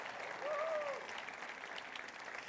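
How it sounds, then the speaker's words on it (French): Church congregation applauding during a service, soft distant clapping that holds steady throughout, with a brief voice or whoop rising above it early on. "Est-ce qu'on peut applaudir ce que Dieu a fait,"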